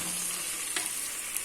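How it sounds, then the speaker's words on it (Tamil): Chopped vegetables sauté in a hot pan with garam masala and salt, giving a steady close sizzle and frying hiss with a brief scrape of stirring partway through. "இதை நல்லா ஃபஸ்ட்டு வதக்கி விட்டுக்கலாம்."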